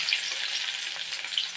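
Onions fry in a pan for a dried fish curry, a bright continuous sizzle with light crackles throughout, close and alone.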